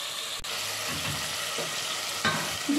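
Garlic and soup sizzling in a pan while being stirred, a faint steady frying hiss with soft scraping stirs and a few small clinks.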